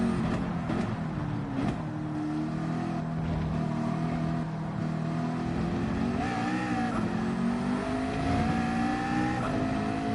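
A Ferrari race car engine in Gran Turismo at Suzuka in a manufacturers cup race: a steady, loud, droning engine note that rises and falls with shifting revs, with other cars' engines layered underneath.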